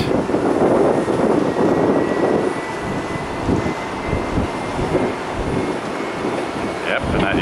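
A UPS Boeing 767 with winglets passes at an airport, a broad steady jet roar that swells and then eases slightly, with a person talking faintly underneath.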